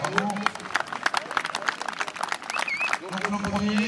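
Audience applause at a dog show, a scattered patter of clapping spread across the hall with voices and crowd chatter running underneath throughout.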